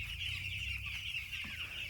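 Chickens on a village poultry farm cluck steadily and close by, with overlapping calls forming a continuous busy flock murmur throughout.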